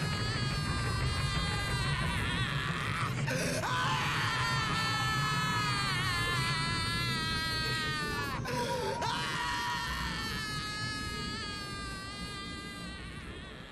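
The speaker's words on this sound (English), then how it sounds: "I'm pretty sure it's just one scream looped over and over again." A single scream from The Mystery of the Druids adventure game repeats in a loop, shrill and wailing. It stays loud and continuous with brief breaks, then fades slightly toward the end.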